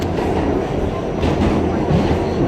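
A New York City subway Budd R-32 train running on the track, a steady loud rumble with rhythmic clatter of wheels over rail joints, heard from inside the car.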